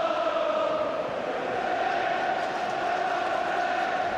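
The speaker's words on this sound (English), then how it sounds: "this is perhaps the most subdued Rangers crowd I've seen in many a long day" A subdued Rangers football crowd murmurs at the 1998 Scottish Cup Final against Heart of Midlothian, a steady, even, distant wash of voices with no clear cheering.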